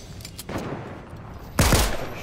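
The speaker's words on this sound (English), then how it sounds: "So the shotgun only shoots out with two bullets and mag." Shotgun blasts in a battle royale video game: a lighter shot, a sustained burst, then one loud, heavy boom near the end, all close and with no speech.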